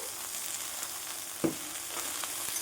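Water lily stems with shrimp sizzle faintly in a pan as they are stirred, with a soft steady fry and a single sharper scrape of the spatula partway through.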